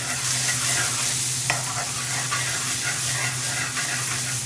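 Onions frying and being stirred in a thin aluminium pan while cooking an Indian restaurant-style chicken tikka jalfrezi, a loud continuous sizzle and hiss with a scrape of the spoon partway through.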